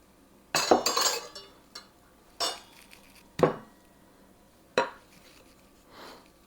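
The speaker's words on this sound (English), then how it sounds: "I think I'm going to get a spatula to get that all out" Spatula scraping holiday cookie bars out of a baking pan, a handful of sharp metallic scrapes and clinks spaced a second or so apart, close with quiet gaps between.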